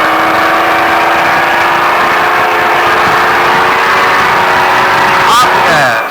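Baja race truck engine revving hard at speed, a loud sustained roar with steady harmonic drone that rises in pitch near the end; no talking.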